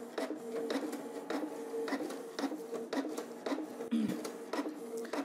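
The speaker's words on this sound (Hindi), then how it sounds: "आप ब्लैक बटन दबा दीजिए तो आपको ब्लैक प्रिंट आउट मिल जाएगी" An inkjet printer runs a black-and-white printout with repeated mechanical print-head passes and feed clicks, a steady rhythmic whirring at close range with no talking.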